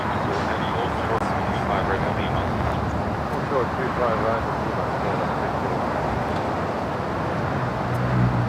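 A KLM airliner arriving from Amsterdam touches down on the south side at LAX, a steady broad roar of engines and rolling under continuous nearby talk.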